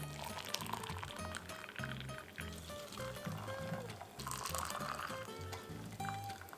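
Hot water poured steadily into a coffee steeping brewer, a soft continuous liquid stream and trickle, fairly quiet, with tonal background sounds running underneath.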